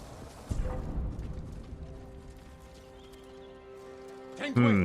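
A horse in the Ghost of Tsushima video game gives off soft hoof clops and a snort, moderately close, with a voice heard around it.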